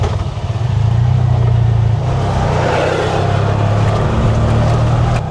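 A truck rumbles past on a foggy mountain road in Tagaytay, a steady loud engine drone with low rumble lasting several seconds, close by and without talk.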